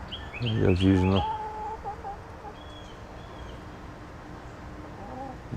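Chickens at a no-waste feeder cluck close by, one loud rooster-like call at first, then softer scattered clucks and faint calls against a quiet background.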